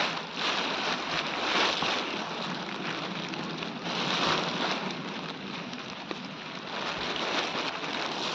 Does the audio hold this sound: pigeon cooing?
no